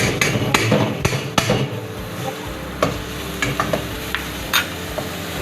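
Ginger garlic paste frying in a pan for pav bhaji, with a soft sizzle under sharp, irregular clinks and scrapes of a spoon stirring against the pan.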